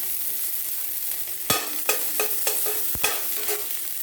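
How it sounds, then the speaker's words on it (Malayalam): Raisins sizzle in hot ghee, a soft steady frying hiss punctuated by five or six sharp scrapes of a spoon stirring the pan, no voices. "ഡ്രൈ ഗ്രേപ്സ് കൂടെ ആ നെയ്യിൽ നമ്മൾ ഒന്ന് വഴറ്റിയെടുക്കണം"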